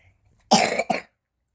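Two quick, close coughs in a row, sharp and loud, with silence before and after.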